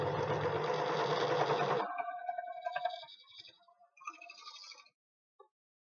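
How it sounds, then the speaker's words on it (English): Sewing machine stitching two fabric scrap pieces together, a close rapid whirring run for about two seconds that stops abruptly, followed by faint clicks and handling sounds. "We only want to sew those 2 together."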